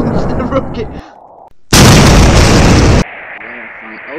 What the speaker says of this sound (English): Launch the rocket!